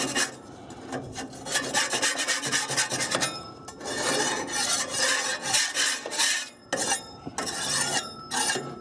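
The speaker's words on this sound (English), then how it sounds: "So pretty much just giving them a scrape." Metal heat plates from a Weber Genesis barbecue grill are scraped in quick, repeated rasping strokes, loud and close, with short pauses between bursts and no talk.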